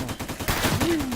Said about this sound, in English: Oh, it's a sniper.